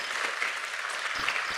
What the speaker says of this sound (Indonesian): Kita kasih tepuk tangan saudara.